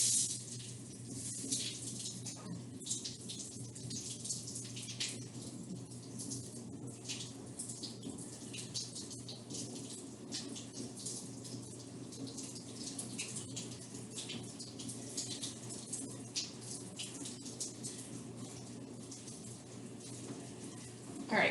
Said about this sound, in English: while that is running under some hot water to melt the honey crystals